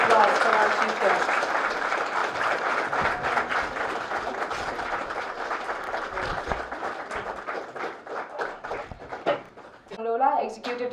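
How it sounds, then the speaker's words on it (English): An audience applauds steadily to welcome the chief guest at the opening ceremony of a winter residential school in Kathmandu, dense sustained clapping that fades toward the end as a voice begins speaking. "Please give a big round of applause for our chief guest."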